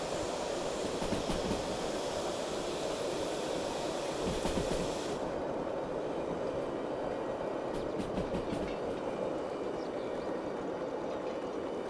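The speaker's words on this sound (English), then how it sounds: "And now you got the air compressor blowing right in my face" Steady, loud broadband hiss of a steam locomotive's air compressor blowing close by in the Derail Valley train game, with a British 0-6-0 engine, a continuous rushing roar that keeps going throughout, its brighter upper edge dropping away midway.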